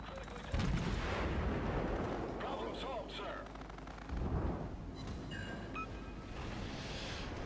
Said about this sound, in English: I don't like it when people shoot at me.